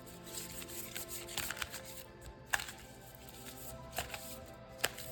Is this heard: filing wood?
no